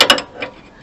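A wrench ratchets on a Range Rover L322 lower control arm bush: a couple of quick close metallic clicks, then a fainter click, with no talking.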